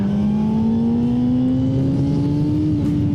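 A 2024 Honda CBR600RR sport bike engine on a wet race track, a steady rising drone as the revs climb smoothly and close, with no talking.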